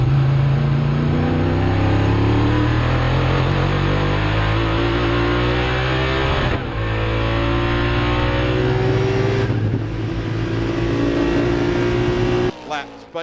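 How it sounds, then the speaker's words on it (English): Sports sedan race cars, including a Honda, lapping Calder Raceway in a Victorian sports sedan race, their engines droning loud and continuous with rising revs and gear changes, under a commentator's voice. "Brett Dickey 5 seconds behind now in the Honda, and he is absolutely romping it in."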